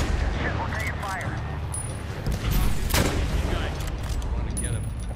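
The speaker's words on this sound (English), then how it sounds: "we're taking fire" Gunfire and explosive booms in the military shooter Medal of Honor: Warfighter, a dense, continuous battle din with a heavier burst near the middle, mixed with muffled voices and game sound.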